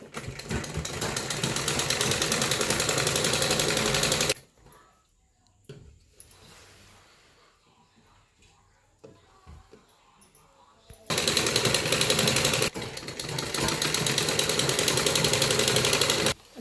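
A sewing machine stitches a net kurti in loud rapid runs, stopping for several seconds of quiet handling and faint rustling before the fast mechanical clatter resumes.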